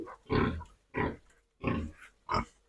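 Pigs on a village farm grunt close by in four short, loud bursts with brief pauses between them; no one talks.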